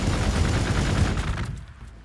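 Dense, rapid gunfire and explosive bursts from a Warhammer 40k Gladius battle with Adepta Sororitas forces, loud and continuous before fading out in the last half second, with no talk.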